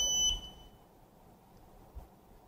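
A shot timer gives a short, high electronic start beep at the outset, then fades into a quiet room with a faint thump shortly after.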